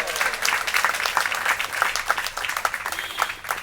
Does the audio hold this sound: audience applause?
yes